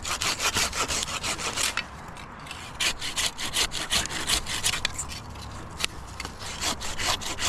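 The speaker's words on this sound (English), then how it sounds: "This is where the hand saw is lovely." A hand saw cuts through a small piece of wood in quick, rhythmic back-and-forth strokes, each rasping pass close and distinct, with a brief pause before sawing resumes.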